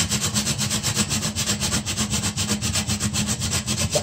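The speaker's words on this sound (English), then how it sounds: "And you grate just enough to get like 1 spoon," Whole nutmeg is grated by hand for a Jamaican Christmas sorrel fruit cake, giving rapid, steady rasping strokes that are loud and close, with no talking.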